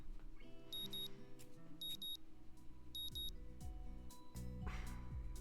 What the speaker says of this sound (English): Why did it keep beeping?